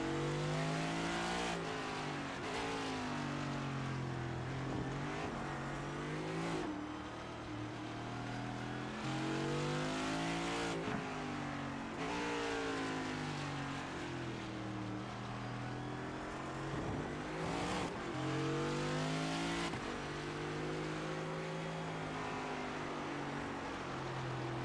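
NASCAR race car engine in the iRacing sim at Circuit of the Americas, a loud, continuous high-revving drone that climbs and drops in pitch through repeated gear shifts and throttle changes.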